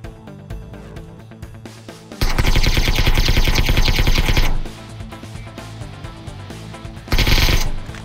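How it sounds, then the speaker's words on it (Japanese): Bursts of rapid automatic gunfire in PUBG, dense and loud, alternating with quieter stretches of game sound and scattered shots. "これがさっきの謎銃声か。"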